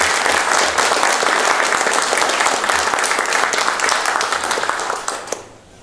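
An audience at the opening event of a mutton-stew cooking festival in Karcag applauds for busó masked performers, a full steady round of clapping that tapers off at the end.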